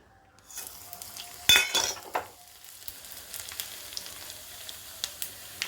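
Mustard seeds, urad dal and asafoetida hit hot oil for a tempering, giving a sharp burst of sizzling and crackling followed by lighter spattering pops and a faint clink of utensils, close and without speech.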